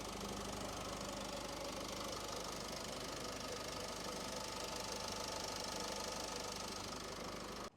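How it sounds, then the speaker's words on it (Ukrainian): A 2014 Renault Koleos 2.0 diesel engine idles steadily and evenly throughout, a continuous close rumble with a faint knocking texture and no voices. "Мотор працює чітко, рівненько, ніяких запотівань підтікань немає."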